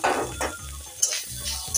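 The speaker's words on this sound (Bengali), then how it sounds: "কিন্তু পুরো নারকেলটা আমি ভেজে নেব।" Grated coconut fries in oil in a wok, giving a steady soft sizzle broken by light scraping and stirring scratches at an irregular pace, close by and without talking.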